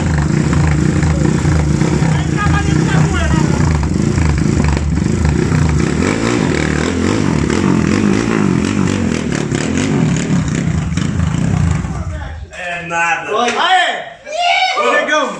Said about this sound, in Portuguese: Liga a moto aí